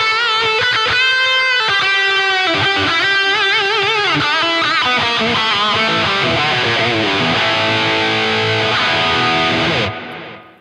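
An electric guitar lead tone through the Neural DSP Archetype Nolly plugin plays a continuous, distorted melodic line with sustained, singing notes for about ten seconds, then cuts off abruptly, with no talking.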